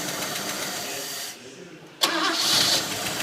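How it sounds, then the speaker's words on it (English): An old Ford XA Falcon, unfired for decades, turns over and catches with a sudden burst, then settles into a loud, lively idle close by. "That is an epic engine"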